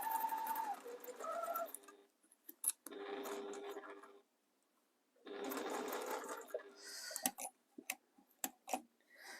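A sewing machine runs in bursts as a seam is stitched on a hexagon-patch mat, with a couple of longer steady runs broken by short pauses and small clicks, fairly close and alone.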